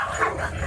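Dogs yip and bark at a Harley-Davidson 100th anniversary gathering, a brief near burst of excited dog voices over steady crowd and outdoor noise.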